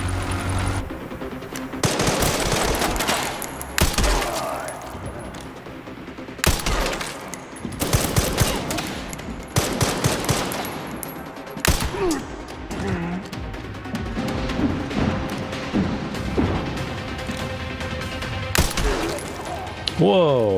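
Rapid bursts of gunfire and single shots from the Resident Evil Requiem video game, loud and dense through most of the stretch, with short pauses between volleys and game effects layered in.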